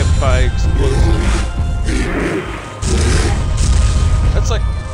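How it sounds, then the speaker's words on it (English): Three booming explosions in quick succession in a hardcore video game level, a loud, dense rumble with gameplay noise and a voice talking over them. "That's like three explosions in a row."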